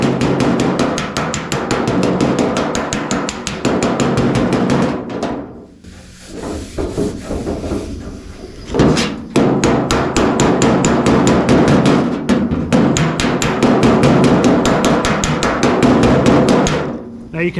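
A hammer and dolly work a dent out of a car body panel: rapid, steady metallic tapping runs almost throughout, breaking off briefly twice before resuming, with faint talk in places.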